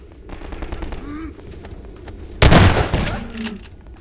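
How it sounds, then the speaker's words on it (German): Gunfire in the video game Half-Life 2 Episode One: a single sharp, loud shot bursts out suddenly and rings off briefly, following quieter game sounds. "guter Schuss auf dieser Distanz"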